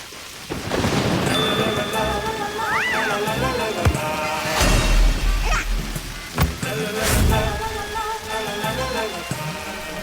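Heavy rain pours steadily while thunder rumbles low in several rolls, with a musical drama score playing over the storm.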